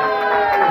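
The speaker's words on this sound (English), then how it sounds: "let's have another round of applause for the dog!" Audience at a stand-up comedy show in Muswell Hill bursting into applause and cheering, a continuous close wash of clapping and crowd noise.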